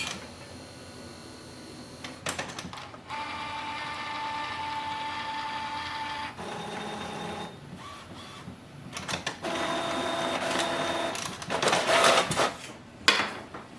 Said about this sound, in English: once you hear the printhead moving